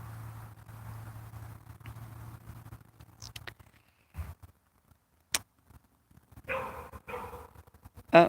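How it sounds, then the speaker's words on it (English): A community dog barks a few sharp times at a distance in a quiet outdoor nature setting, after a low steady hum fades out. "Oh, here's the dog."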